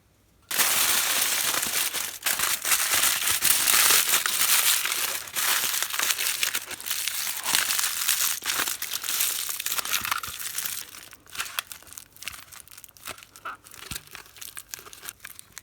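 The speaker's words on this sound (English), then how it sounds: "I'm just going to take some aluminium foil and wrap it around here to form like a little ball" Aluminium foil is squeezed and crumpled by hand into a tight ball, a loud close crackling and crinkling that runs almost continuously before breaking into shorter separate crunches near the end.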